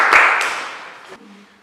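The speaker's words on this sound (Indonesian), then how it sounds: "Tepuk tangan untuk kelompok C." A classroom of students applauds a student discussion group, a burst of clapping that starts loud, thins and fades over a second or so, with a brief louder spurt at the end.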